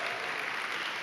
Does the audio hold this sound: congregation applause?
yes